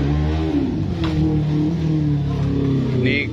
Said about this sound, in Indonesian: Ini Gus Idam yang naik motor besar lho.